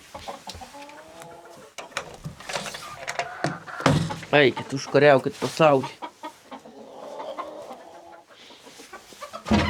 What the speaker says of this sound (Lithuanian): Labai jaukios vištos tapę.